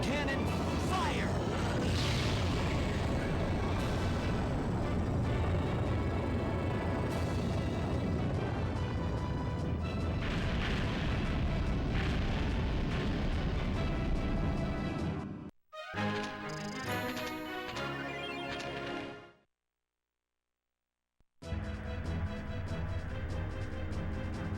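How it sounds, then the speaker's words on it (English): A Moonstone cannon fires in the GameCube game Skies of Arcadia Legends, a sustained roaring blast and rumble that ends abruptly, followed by crackling game effects, a moment of silence and more booming. "Moonstone cannon, fire!"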